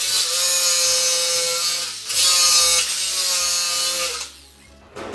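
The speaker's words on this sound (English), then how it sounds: "I'm going to start cutting these out. Make sure if you're using a jigsaw or any sort of tool, cutting these out." A jigsaw cuts trailer parts out of a sheet for an H1 trailer build, a loud, steady buzzing saw run that dips briefly near two seconds and tails off toward the end.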